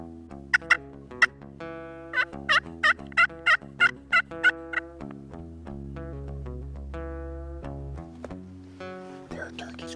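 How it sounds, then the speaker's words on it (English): A series of rapid wild turkey gobbles rings out in repeated bursts over a sustained low droning background, fairly close and loud. "There are turkeys right over there."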